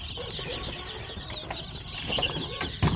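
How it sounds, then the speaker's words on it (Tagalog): Week-old chicks crowded in a poultry pen give off a dense, continuous chorus of high peeping, fairly close and steady for the whole stretch, with a brief louder knock near the end. "So ang dami ng ating mga sisiw."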